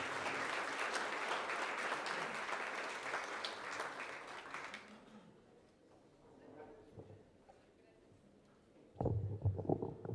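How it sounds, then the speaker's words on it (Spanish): An audience at a business event on small and medium enterprises applauds for about five seconds, the clapping then fading into quiet room noise before a voice begins to speak. "Un fuerte aplauso, por favor."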